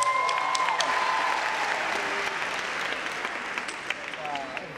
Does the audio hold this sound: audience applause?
yes